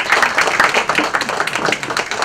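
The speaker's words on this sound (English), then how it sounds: "can we have a huge round of applause for him?" A crowd claps at a book launch, a lively burst of irregular hand claps that rises and dips in waves and stays fairly close and loud.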